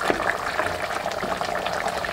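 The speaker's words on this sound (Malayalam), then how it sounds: "കണ്ടോ, നമ്മുടെ മീൻ കറി തിളച്ചു" Vaala fish curry in a pot at a steady rolling boil, continuous dense bubbling and hissing at close range with no voices.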